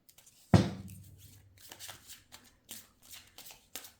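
A deck of tarot cards is shuffled in one sharp riffle, followed by quieter rustles and soft taps as cards are handled and drawn, close by and with no talk.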